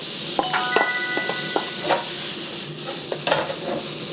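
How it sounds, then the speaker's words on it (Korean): Onions stir-fried in a pan with pepper and a spoonful of sauce: a steady sizzle under repeated scraping and clinking of a utensil against the pan, close and fairly loud, with no talking. "자, 이런 식으로 살짝쿵 볶아줘요"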